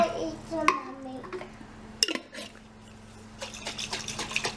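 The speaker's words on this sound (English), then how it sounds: "I'm gonna add the water into my jar of salsa so that I can get the rest of that out of there." Water is poured into a jar of salsa and swirled, giving a few sharp clinks of glass and brief sloshing, stirring sounds close by.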